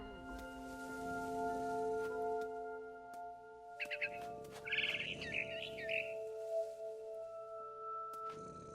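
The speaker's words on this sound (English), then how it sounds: "Then I heard chirping outside my window. It was a barn swallow going back to her nest." Barn swallow chirping in the Edith Finch video game, a few quick high twittering bursts midway through, moderately close above a steady hum of game ambience and music.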